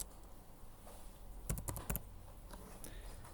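Someone types briefly on a computer keyboard, a short cluster of crisp key clicks over a quiet background hiss, with a few fainter taps afterward.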